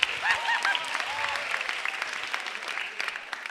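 An audience at a stand-up comedy show applauds with steady, dense clapping from many hands, holding at moderate loudness before easing slightly at the end.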